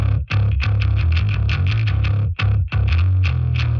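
Precision bass driven through a distortion (dirt) effect, playing a loud, gritty low line with sustained notes and a couple of brief gaps, no voices.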